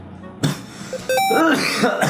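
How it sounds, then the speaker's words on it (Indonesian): A person coughs and clears their throat in a short, close, loud burst while playing the offline T-Rex runner game, with a brief electronic beep in between. "batuk beneran ini"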